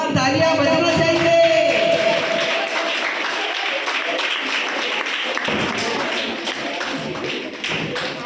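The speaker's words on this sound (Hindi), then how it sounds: "हमारी तालियां बजना चाहिए।" An audience at a quiz competition applauds loudly and steadily in a hall. Dense clapping runs throughout, with a brief tone at the start and faint crowd murmur underneath.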